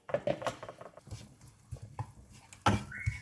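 Seasoned mushrooms are stirred in a pan, giving soft scraping and clinking of a utensil against the pan in quiet, irregular taps, close and faint, with no talk.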